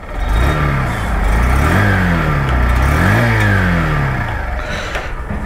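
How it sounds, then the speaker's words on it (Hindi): A 2024 Honda Shine 100 motorcycle revs close up, its smooth exhaust note swelling and falling back through two distinct rev blips over a steady idle. "तो गाइस चलिए, राइड करने से पहले एक बार इसका एग्जॉस्ट नोट आपको सुना दूँ। वही टिपिकल होंडा का जो स्मूथ सा"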